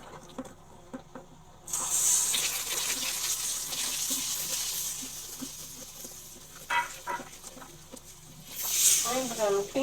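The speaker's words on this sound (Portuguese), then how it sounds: "eu vou colocar mais um pouquinho de água porque eu quero ela um pouquinho" Water is poured into a thick caramel syrup for a pudding-flavoured ice pop, a hissing, sizzling gush that runs for several seconds, rising again near the end.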